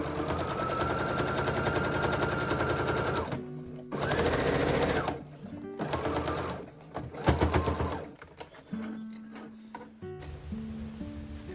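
Sewing machine running in long bursts while hemming the drape of a nightgown with a double-folded 3/8-inch hem, loud and close, with brief pauses between runs and no talk.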